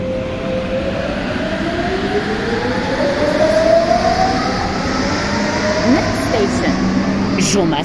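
Lyon metro line B train running underground between stations, a loud continuous rolling rumble with rising and falling motor whine, heard from inside the carriage, with people talking over it.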